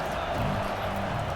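Crowd cheering in a college football video game stadium, a dense, continuous roar of many voices at a steady loud level throughout the short stretch.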